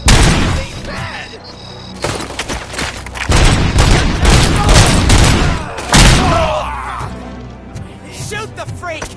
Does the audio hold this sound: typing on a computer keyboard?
no